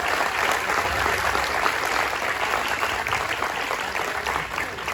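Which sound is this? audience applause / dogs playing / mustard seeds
audience applause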